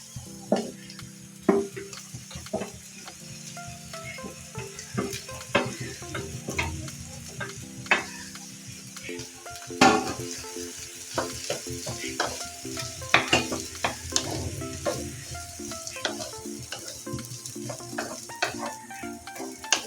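Cooked broken wheat and carrot are stirred and sautéed in a pan, with a soft continuous sizzle broken by frequent sharp scrapes and taps of a spoon against metal, close up with no talking.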